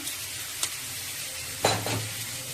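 Ground cumin tipped into hot oil for a prawn hot and sweet dish, letting out a sharp sizzle and scraping stir near the end, after a quiet, steady frying hiss and one brief clink early on.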